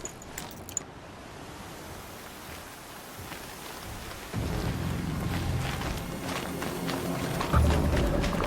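Stormy weather in the video game Horizon Zero Dawn, with a steady wash of rain-like noise that thickens and grows louder about halfway through, plus a low rumble swelling near the end.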